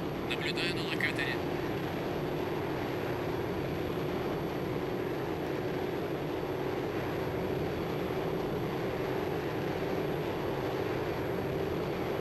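An F-8J Crusader jet taking off in the Strike Fighters 2 flight game produces a steady, loud engine roar that holds without a break. A few faint brief radio-like sounds come early.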